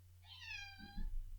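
A single drawn-out cat meow rises and falls, followed by a low rumbling murmur, all over a faint steady hum.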